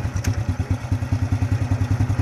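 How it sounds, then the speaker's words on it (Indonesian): A motorcycle engine, run as a makeshift generator with its battery hooked up, idles steadily with a close, loud, rhythmic chugging throughout, alone and without talk. "kita hidupkan ini motor."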